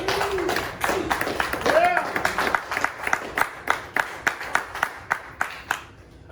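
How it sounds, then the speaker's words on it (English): A Crypto Mondays gathering in San Juan breaks into applause. Hand claps come through as a series of sharp, moderately loud bursts that grow more spaced and even toward the end, with crowd noise and voices underneath. "Let me give a round of applause, please."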